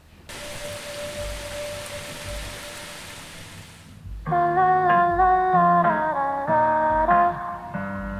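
Rain falls as a soft, steady hiss for about four seconds in a music video's ambiance, then gives way to louder layered music, with no talking.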